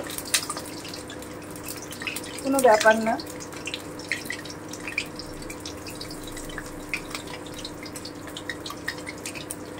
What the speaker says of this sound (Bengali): জল ছিল একটু পড়ে গেল